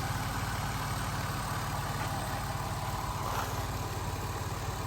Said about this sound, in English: There we have the good old Duratec V6.